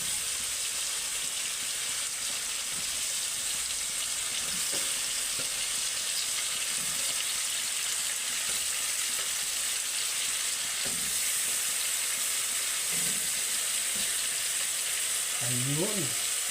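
Chicken pieces frying in hot oil in a pan, a dense, steady sizzle and crackle running the whole time, close and fairly loud, with a few faint scrapes and clinks.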